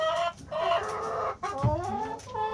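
Chickens clucking inside a chicken coop, with brief, closely overlapping calls in irregular bursts, one call louder and nearer than the rest, and no voices over them.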